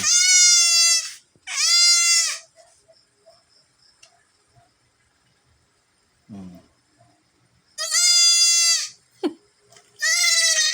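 A young goat on a farm bleats loudly and closely in four drawn-out calls, two at the start and two near the end, with near silence and a few faint clicks and knocks in between.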